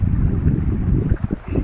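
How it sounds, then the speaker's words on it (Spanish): Outdoor running water rushes with a low, dense, continuous roar, close and fairly loud, with some blustery buffeting and no voices. "qué bonito se oye el ruido del agua"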